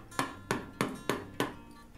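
Five sharp mallet-driven chisel strikes chop waste wood out of a groove while a grooving plane is being made, spaced evenly about a third of a second apart, close and crisp, each with a short woody ring and nothing else around.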